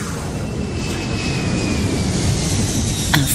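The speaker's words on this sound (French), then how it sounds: "Avec un bruitage d'avion" An airplane sound effect played on a radio programme: a steady, loud, broadband jet roar that holds evenly throughout, with no voices over it.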